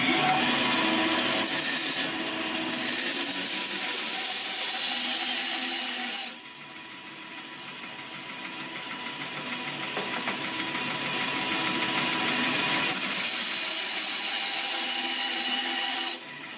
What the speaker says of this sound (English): I'm going to use the bandsaw here just to knock off some of the extra material